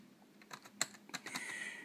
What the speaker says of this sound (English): just to see if all the rest of the keys work